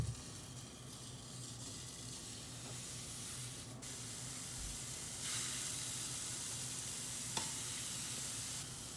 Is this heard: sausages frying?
yes